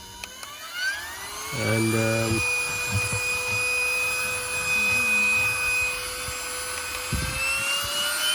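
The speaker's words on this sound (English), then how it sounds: "with the turbo mode, it starts making more noise" Beldray cordless vacuum cleaner running in turbo mode on a dirty carpet, a steady high-pitched motor whine with a rising tone at the start, accompanied by brushing and rubbing against the carpet and brief speech.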